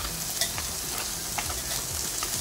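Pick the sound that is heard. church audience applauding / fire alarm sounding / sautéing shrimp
sautéing shrimp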